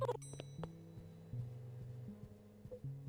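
Repeated electronic bell chimes from a doorbell in a Roblox animal hospital game ring in quick succession over a low hum, with sharp struck tones sounding and sustaining several times.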